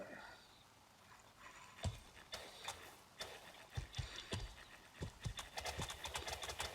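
Horse hooves clip-clop on the ground in the medieval game Life is Feudal, first sparse, then quickening into an uneven, close trot with a brief whinny, under soft background sound.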